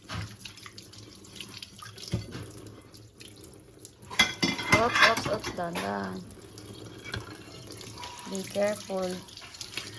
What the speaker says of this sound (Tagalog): Sige, kahit wag mo nang patayin yung gripo.